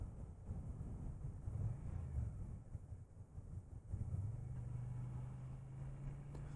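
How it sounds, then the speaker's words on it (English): Car approaching on a quiet bending road on the Isle of Skye, a faint low engine rumble that builds gradually, with a steadier tone emerging in the last seconds under outdoor wind noise. "there's a car coming"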